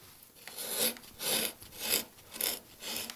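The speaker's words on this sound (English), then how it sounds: "Coming in from the side, I make this sort of slicing cut." A flat carving gouge slices across the wood grain while carving a leaf, making five or six short rasping scrapes at an even rhythm, close and crisp, with no talking.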